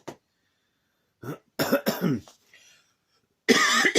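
A short cough, then a few harsh coughs and throat clearing in quick succession, close and fairly loud, with a longer burst near the end.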